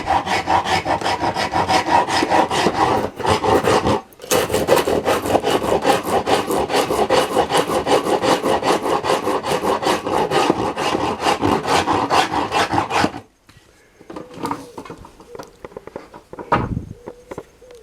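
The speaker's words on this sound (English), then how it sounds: "Let's do a bit of one-handed rasping." A rasp works one-handed along yew wood for a primitive bow, giving a loud, rapid, rhythmic scraping with a brief pause, then stopping, followed by a few quieter handling sounds.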